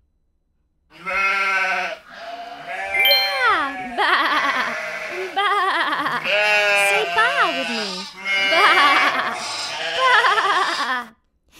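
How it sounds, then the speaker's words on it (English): Sheep bleat repeatedly on a farm, a run of wavering, pitch-bending cries that carry on almost without pause, loud and close, with voices mixed in. "The sheep on the farm says ba ba ba all day long."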